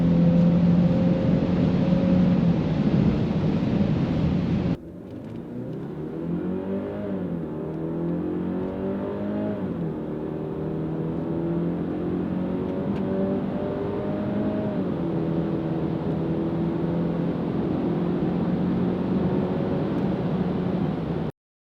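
A 2022 Genesis GV70 2.5 and a 2022 Range Rover Evoque accelerate hard in a drag race, heard as steady loud wind roar that gives way to a rising, shifting engine drone climbing through gears until a sudden cutoff.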